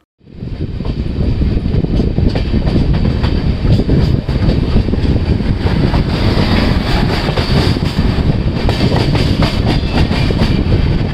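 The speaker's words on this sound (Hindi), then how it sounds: "और जब हम सवाई माधोपुर जंक्शन एंटर कर रहे हैं" The Azimabad Express rolls into Sawai Madhopur Junction with a loud, continuous rumble of wheels on track, rhythmic clatter and faint metallic squeal running throughout.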